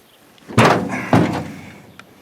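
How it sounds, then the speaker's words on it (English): The stiff door of a 1962 Mack B613 truck is forced, giving two sharp metallic bangs about half a second apart, each trailing off into a brief rattle, close and loud. "Oh, this door is tough."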